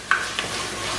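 Chicken curry being sautéed in a pan, with a couple of quick stirring scrapes over a soft steady sizzle, close by.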